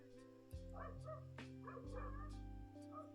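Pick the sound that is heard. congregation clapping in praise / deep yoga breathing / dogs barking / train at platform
dogs barking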